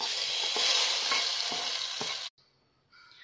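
Hot oil tempering with green chilies and curry leaves is poured into cooked kappa (cassava) for Kerala kappa puzhukku, making a loud, close, continuous sizzle with a few stirring scrapes, then an abrupt drop to near silence with faint crackles.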